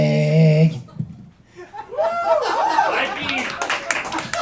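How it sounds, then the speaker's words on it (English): Applause and scattered laughter from a bar audience at a comedy gig in Newport Beach, clapping rising after a sung or drawn-out voice and mixed with chuckles and talk. "Will you clap your hands for putting this together?"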